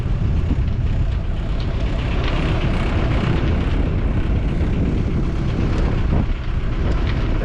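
A sailboat, S/V Seaquestor, motors toward the marina straight into the wind. Its engine is a steady low drone, largely buried under loud, continuous wind buffeting, with no talking.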